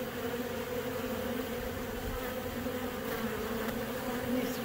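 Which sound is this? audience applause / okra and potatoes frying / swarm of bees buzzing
swarm of bees buzzing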